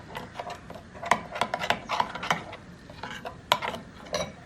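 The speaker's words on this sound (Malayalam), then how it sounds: "ഇത് ഇത്ര ഒന്ന് ഇളക്കി കൊടുക്കാം" A spoon stirs spice powders, coriander and turmeric, in a pan, making quick dry scraping and rubbing strokes in an uneven rhythm, close and fairly crisp, with no talking.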